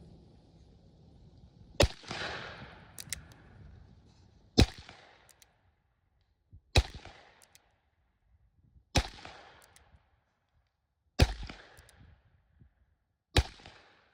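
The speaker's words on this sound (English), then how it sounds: "Schofield revolver is a variant of the Smith & Wesson Model 3." Smith & Wesson Schofield revolver, a Model 3 variant, firing six sharp, loud shots spaced about two seconds apart, each with a short echoing decay and quiet gaps between.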